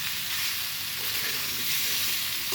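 Curry with a little sugar and spices fries in a pan, giving a dense, even sizzling hiss that stays loud and steady for a few seconds, without speech.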